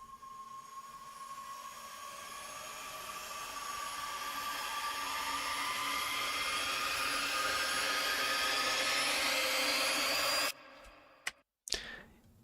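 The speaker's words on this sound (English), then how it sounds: "It wouldn't be a trailer without a riser." A long trailer-style riser swell of tonal, rushing noise climbs steadily in pitch and intensity, then cuts off abruptly into a few sharp stuttering bursts at the end.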